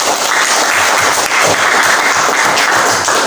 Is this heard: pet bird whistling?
no